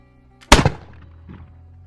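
A single loud gunshot bursts out and trails off into a short echoing decay, with a faint second thud soon after, used as a sound effect in a spoken folk tale about a king shooting a boar hog.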